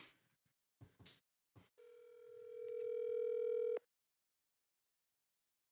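Steady telephone dial tone, loud and alone for about two seconds as a call is placed, ending abruptly; brief talk is heard before it.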